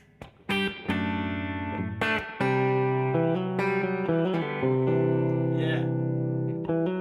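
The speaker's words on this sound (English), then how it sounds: "Now the reverb's back in." An electric guitar picks several notes and chords with reverb switched back on, so the notes ring out and overlap in a clean, sustained tone after a soft start.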